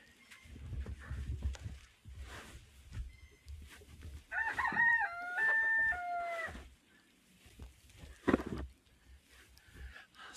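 Chickens at a big coop during a heavy snowstorm with about 14 inches of snow. A rooster crows loudly partway through, and scattered clucks and soft shuffling fill the quieter stretches around it.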